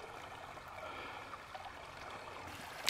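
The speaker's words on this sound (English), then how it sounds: "It's like a little waterfall there." A small stream spills over rocks like a little waterfall, making a soft, steady rushing and trickling that stays even throughout.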